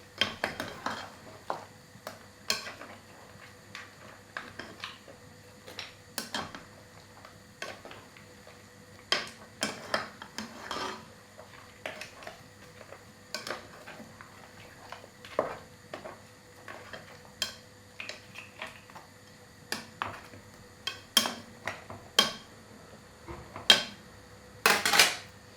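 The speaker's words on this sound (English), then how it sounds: "Give it a stir." A utensil stirring boiling meat in a pot, heard as sparse clinks and taps against the pot, irregular and fairly faint over a quiet hum of background noise.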